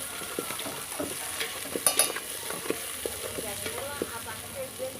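Potato, carrot, green chili and tomato sizzle and crackle in hot oil, with steady frying hiss and occasional stirring scrapes, close and moderately loud, no talking.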